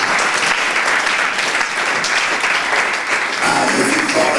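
A church congregation claps steadily and loudly, a dense unbroken wash of applause without speech.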